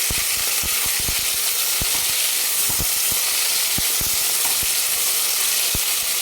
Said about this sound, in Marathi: एक टोमॅटो कट करून घेतला आहे गावरा तो पण टाकू दोन मिनिट आपण छान याला परतून घेणार आहोत